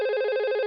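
An IP desk telephone rings with a steady electronic tone carrying many even harmonics, loud and continuous for under a second with no voices over it.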